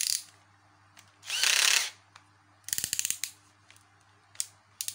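Short bursts of a power drill whir close by, followed by ratcheting clicks and small metallic clatters of screws being worked loose to open a 25A transformer.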